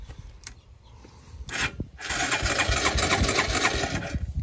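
A vintage Harley motorcycle engine cranks without starting: a brief scrape, then a steady, close churning whir of the starter that runs on continuously, with no talk.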